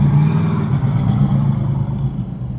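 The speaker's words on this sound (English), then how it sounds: "there's a loud truck coming by" Loud truck passing by outdoors, a heavy low engine rumble with clattering mid tones, strong at first and gradually easing as it moves away, with no voices.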